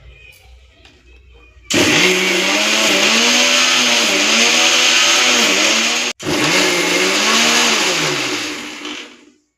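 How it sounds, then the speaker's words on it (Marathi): A kitchen mixer grinder whirs loudly as it grinds fresh coconut pieces, coriander, chili and cumin into a paste for raw mango chutney. The rising motor whine cuts out briefly, starts again and then winds down, with faint sounds before it starts. "मिक्सरच्या भांड्यात ओलं खोबरं बारीक तुकडे करून घेतले आहेत, कोथिंबीर, मिरची, जिरं त्याचं आपण वाटण करून घेणार आहोत"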